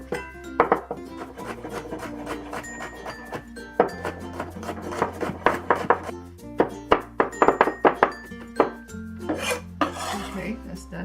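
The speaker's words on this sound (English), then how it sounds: "Next, let's mince the garlic." Knife mincing garlic on a wooden board, a string of rapid dry chopping and rasping strokes in uneven bursts, close and fairly loud, with low steady kitchen hum beneath and no talking.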